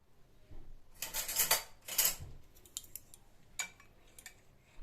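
A metal spoon scraping and clinking against fruit in a dish, with two loud, close scraping bursts early on followed by lighter taps and clicks in a quiet room.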